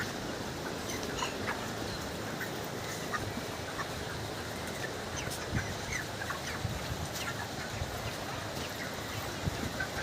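Broiler chickens in a poultry shed during hot weather keep up a continuous low murmur of clucks and scattered calls, with faint occasional sharper chirps through the whole stretch.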